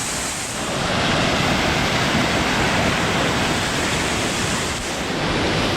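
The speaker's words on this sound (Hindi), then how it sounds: "शुद्ध हिमालय से पानी है वो नीचे की ओर प्रवाह हो रहा है" Himalayan waterfall water rushes down beside the Kedarnath trekking route, a steady, dense broadband roar that stays close and loud throughout with no voices.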